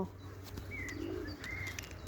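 Pigeons coo softly during feeding, with a few faint, drawn-out coos and light chirps over a low, steady background hum and no voices.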